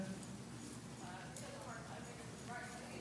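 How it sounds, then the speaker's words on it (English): A horse loping around an indoor arena, its hooves giving a steady, rhythmic clip-clop on the ground beneath near-constant talking. "Now how much does this horse lope to the right?"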